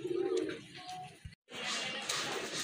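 Kaldam pigeons coo softly in a loft, low throaty calls under a steady hiss of background noise, broken by a brief silent gap before the noise returns.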